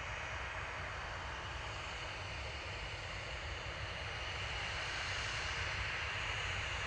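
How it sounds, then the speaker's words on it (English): A passenger plane takes off at Manchester Airport, its jet engines making a loud, steady broadband roar that holds for several seconds with no voices. "So the first time I get to see my plane take off."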